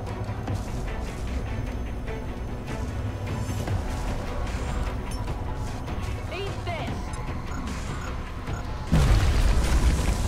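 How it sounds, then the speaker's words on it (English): A grenade explodes in the XCOM Long War strategy game: a sudden deep boom near the end, rising over a steady bed of game sound. "Alright, you're gonna throw your grenade then."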